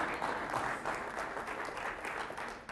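An audience claps steadily during a speech on a 21st-century transportation plan for Massachusetts, a dense, even patter of many hands that carries on without pause and tapers slightly at the end.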